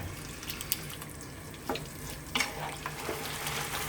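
Creamy chicken sauce simmers and sizzles steadily in a pan while being stirred constantly, with soft scraping and bubbling and occasional small clinks, close and continuous.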